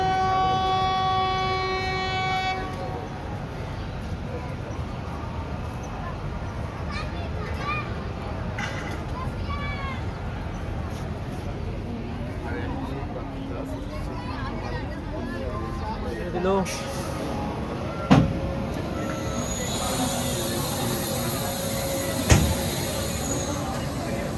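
The Ganadevta Express, fitted with new LHB coaches, pulls away along the rails with a steady low rumble, a horn-like tone early on and sharp clanks later, while voices talk throughout.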